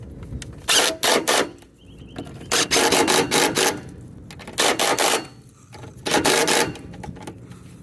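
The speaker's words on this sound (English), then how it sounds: "Now I'm gonna grab my 14mm. And tighten up the top once again." A 14mm wrench tightens the top bolt of the rear shock on a 2019 Honda Odyssey, giving about five bursts of rapid, close-up ratcheting clicks separated by short pauses, with no talking.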